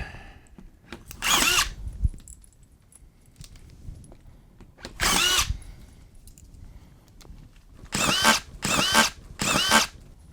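A drywall screw gun drives screws into a water-damaged ceiling in sharp, whirring bursts, one, then another, then three quick ones in a row, each ending abruptly with quiet gaps between.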